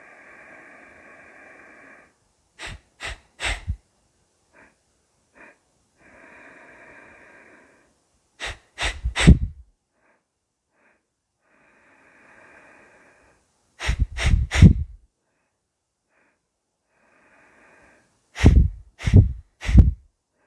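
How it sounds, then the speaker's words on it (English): Nose breathing exercise: alternating rounds of a steady airy inhale, then bursts of three sharp snorting exhales and two short sniffs, repeated four times, close and clear with no talking. "3 sharp exhales out, 2 short, sharp inhales in,"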